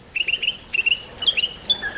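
A bird calls in a series of bright, high chirps and whistles in short bursts, fairly close and clear over quiet background hiss.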